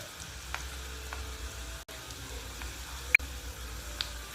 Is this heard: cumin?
yes